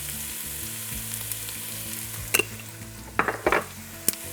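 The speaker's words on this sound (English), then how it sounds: "Right, we've got that all frying off and smelling outrageous." Ginger, garlic and fenugreek fry in ghee in a pan with a soft, steady sizzle, broken by a few sharp clinks and scrapes from stirring near the end.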